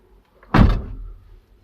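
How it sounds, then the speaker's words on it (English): A Renault Trafic SL30 van door opens with a single short mechanical clunk and a brief rattle, then quiet. "We'll just open the door and see if we can get the touchscreen to activate."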